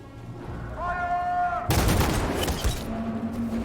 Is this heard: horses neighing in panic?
no